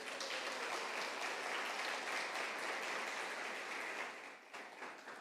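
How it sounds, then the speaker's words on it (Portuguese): A church congregation gives a round of applause during a sermon, thick steady clapping that holds evenly and then eases slightly toward the end. "Vamos dar uma salva de palmas a Cristo Jesus?"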